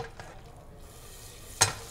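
Onions sizzle gently in butter melting in a cooking pan, a soft steady crackle with one brief louder clatter of stirring near the end.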